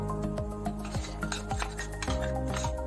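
Beef is mixed with spice paste and salt in a bowl: a utensil scrapes and clinks against the bowl in quick, irregular strokes, close and fairly quiet.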